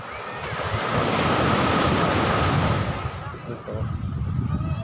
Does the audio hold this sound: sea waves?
yes